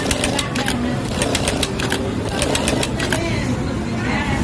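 An industrial sewing machine stitching a tack, the needle hammering in quick bursts of rapid, sharp clicks that stop and restart, loud and close, with someone talking over it.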